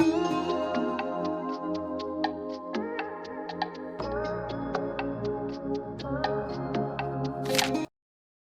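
A smooth RnB beat loop made in FL Studio plays alone, with sustained chords, a bass line and a crisp, steady rhythmic hi-hat pattern, ending abruptly.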